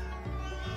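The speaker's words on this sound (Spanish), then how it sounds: "Cariño, ya puedes abrir los ojos. ¡Ah! ¡Gatito!" A cartoon kitten gives a single short, soft meow at an animal shelter, heard on its own.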